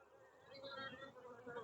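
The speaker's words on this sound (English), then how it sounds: "this one has more bees in it" Honey bees buzz in an opened hive during an early-season inspection, a soft, continuous droning hum from many insects, close by but quiet.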